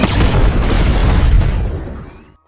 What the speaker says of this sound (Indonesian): Ledakan itu membuat pembunuh bayaran anak buah duo twin pria tewas